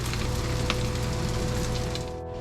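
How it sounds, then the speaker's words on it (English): Spam frying in a pan gives off a steady, dense sizzle that stays loud and close throughout, with no voices over it. "You can hear that Spam sizzling"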